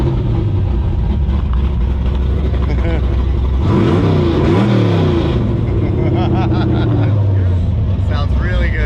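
Race car engine on a street-legal build with a newly fitted exhaust revs hard in a loud mid-clip burst, rising and falling pitch sweeps over a steady rumbling idle, with people talking nearby throughout.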